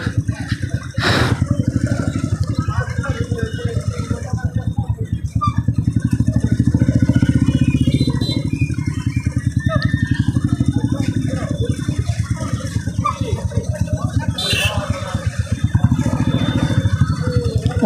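A motorcycle engine runs steadily and loudly throughout at a crowded village fair near a temple, its chugging rhythm continuous with brief bursts of clatter and crowd noise around it.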